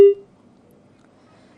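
A single short electronic beep sounds as a phone call drops, loud and clean at the very start, then fades into near silence with faint line noise.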